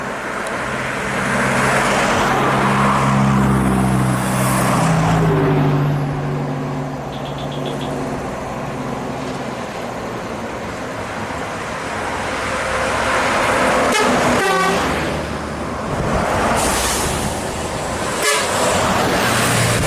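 A convoy of buses rolls past on a road with repeated, loud horn toots, the long melodic honks rising over a continuous heavy roar of engines and traffic.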